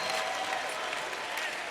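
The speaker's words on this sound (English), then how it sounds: "Clap your hands about it." An audience at a spiritual gathering led by Michael B. Beckwith claps together in a brief, dense burst of applause that fills the space evenly for under two seconds.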